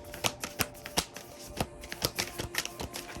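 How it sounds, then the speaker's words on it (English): A deck of thick-ish cards is shuffled in a run of quick, crisp riffling snaps and taps, uneven in rhythm and close by, with no talking. "These really are smooth when they shuffle."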